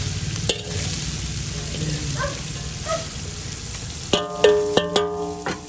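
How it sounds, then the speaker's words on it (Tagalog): Cabbage and mixed vegetables stirred in a frying pan, a steady close sizzle with scraping stirs throughout, then sharper clanks of a utensil against the pan toward the end. "Haluin natin sa repolyo."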